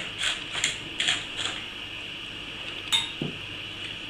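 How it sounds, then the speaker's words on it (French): A pepper mill twisted a few turns over a tomato tartare, giving several short bright grinding crackles in quick succession, then a pause and one more brief grind, close and fairly quiet, with no talking. "je vais mettre quelques tours de moulin de poivre"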